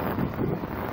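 Wind gusts across a microphone outdoors on a rainy day, a steady, loud low rumble that fills the whole second with no voices.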